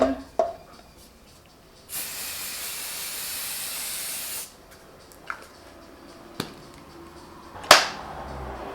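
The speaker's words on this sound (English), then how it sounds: "Setting spray." A steady hiss of makeup setting spray runs for about two and a half seconds in a quiet room, followed by a few soft clicks and a brief sharp rattle.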